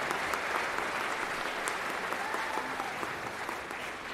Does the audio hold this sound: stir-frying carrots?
no